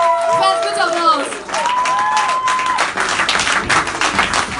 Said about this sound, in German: Fans, bitte Applaus!